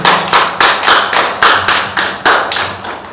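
Audience at a traditional textile workshop in Sintang applauding, about ten sharp, evenly spaced bursts of clapping, loud and close, steady for a few seconds with no voices over it.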